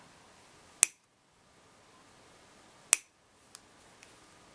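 Small cutters snip off the end of a cup chain for a bracelet with two sharp, crisp clicks about two seconds apart, followed by a couple of faint ticks in a quiet room.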